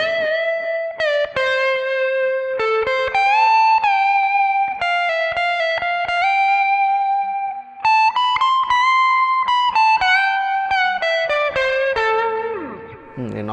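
Electric guitar played through a NUX Mighty Lite BT MKII mini amp with a delay effect, clean sustained melodic notes with echoing repeats trailing each phrase, steady and close with no talking.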